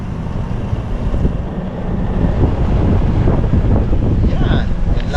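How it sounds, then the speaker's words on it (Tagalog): Wind buffets an outdoor microphone in a steady rushing roar, loud and continuous, with possible water or boat noise mixed in. "Sarap ng hangin."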